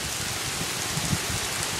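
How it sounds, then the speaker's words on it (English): Heavy rain pours steadily outside a front door, a dense, even hiss of drops striking surfaces, loud and continuous with a few closer splats. "It is just raining"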